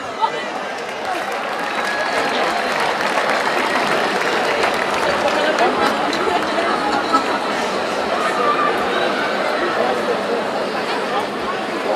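Sustained, loud audience applause with crowd chatter for a mariachi singer at a live performance in the Canary Islands, dense and steady throughout without a break.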